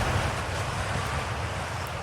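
A waterfall in Outer Wilds gives a steady broadband rush of falling water, loud and continuous, with no break and nothing else heard over it.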